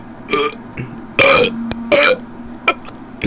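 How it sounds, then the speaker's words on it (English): A string of loud, throaty burps from friends, three long belches and a couple of shorter ones in quick succession, close up with little else around them. "I burped like 5 times in a row."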